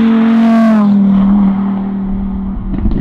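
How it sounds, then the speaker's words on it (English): A loud Lamborghini Huracan Tecnica engine with its exhaust valves open and a deep exhaust note, revving up high and then dropping to a lower rumbling drone, close by. "You'll notice that the car sounds quite loud."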